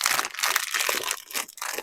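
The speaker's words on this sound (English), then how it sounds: "Let's crinkle the plastic bag." A plastic bag from a building block set is crinkled by hand, giving close, loud, rustling crackles in quick uneven bursts.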